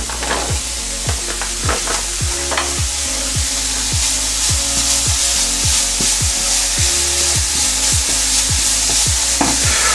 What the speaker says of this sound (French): maintenant, on rajoute nos 200 grammes de viande hachée